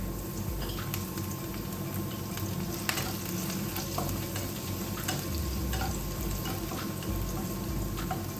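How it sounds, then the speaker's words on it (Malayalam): Finely chopped green chillies, three of them, frying in about a teaspoon of hot oil, a dense steady close crackling sizzle with occasional small pops throughout. "എണ്ണയിലോട്ട് ഒരു 3 പച്ചമുളക് കുഞ്ഞായിട്ട് അരിഞ്ഞ് ഇട്ട് കൊടുത്തേ."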